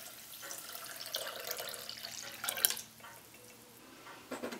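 Lemon juice is poured into a sauce pot that already holds sugar, making a faint, brief trickle and splash close by in a quiet kitchen while making lemon curd.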